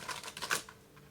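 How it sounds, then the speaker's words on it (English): A deck of cards being shuffled nearby, heard as a quick, soft, papery riffle of rapid clicks lasting about a second, with no one talking. "I'm going to talk for a minute while I'm shuffling."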